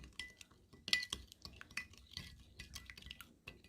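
A spoon clinks and scrapes against a bowl while mixing a Korean vegetable stir-fry. The taps are quiet and scattered, with a brighter clink near the start, and there is no talk.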